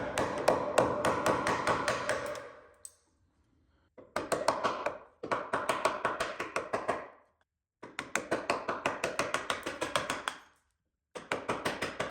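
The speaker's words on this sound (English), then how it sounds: "I can come to the bottom of each of these grooves and just give it a tap" A wooden batten is tapped down into the bottom of grooves on a boat build, in quick rhythmic bursts of light, crisp knocks separated by short silent pauses.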